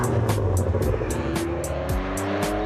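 A Ferrari 575M Maranello's V12 engine roars loudly and steadily up close, with a deep continuous growl and some rising and falling revs.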